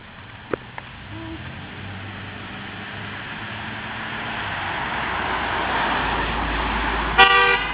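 A car approaches with a rising road rumble, then gives a short, loud honk of its horn near the end.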